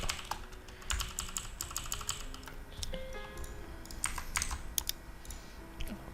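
Rapid computer keyboard typing while deleting text in a terminal editor, dense close-up key clicks in irregular bursts throughout.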